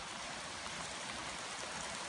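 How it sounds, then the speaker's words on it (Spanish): Steady rainstorm in El Salvador with water running and splashing, a constant broadband wash, fairly faint and unbroken, no speech. "No para esta tormenta, siempre sigue."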